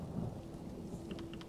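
Steady rain falls in The Elder Scrolls Online on Xbox One, a soft continuous hiss with low rumbling underneath and a few faint drip-like ticks near the end, quiet and without voices.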